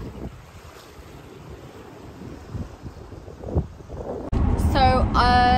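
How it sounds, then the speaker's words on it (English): Strong wind buffets the microphone in gusty, rumbling bursts outdoors, with surf in the background and a bright chirping sound near the end. "It's very windy."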